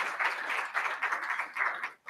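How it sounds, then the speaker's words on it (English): Audience applause at a university oration, a steady wash of many hands clapping that carries on for about two seconds before briefly dipping at the end. "he deserves a big round of applause for what he's done"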